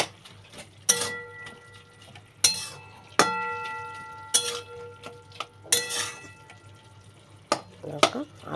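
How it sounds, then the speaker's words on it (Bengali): Boiled potatoes in a pot are stirred after the lid comes off, giving a series of sharp metallic clinks and scrapes of a spoon against the pot, with ringing tones and quiet gaps between strokes. "দেখো আমি ঢাকনাটা খুলে দিয়েছি, এবার নাড়িয়ে দেবো।"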